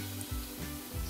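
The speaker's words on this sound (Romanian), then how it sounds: "cu un pic de ulei de măsline și le pun în tigaie" Bread pieces brushed with olive oil sizzle in a frying pan, a soft steady crackle with a few low bumps as pieces are set down, close and fairly quiet.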